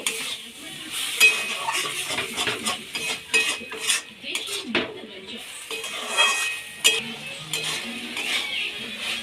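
Leafy greens with mustard paste are stirred in a pan: close, irregular scraping of a utensil against metal with clinks over a soft sizzle, and no talk.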